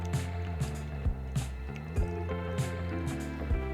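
Water poured into the coolant system of a Ducati V4S motorcycle, giving a steady liquid fill with repeated drips and squishy gurgles spaced about every half second, close by and moderately quiet.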